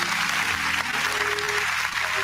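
An audience claps through the whole stretch at an event kicking off Women's History Month, with some music or tonal sound running underneath the applause.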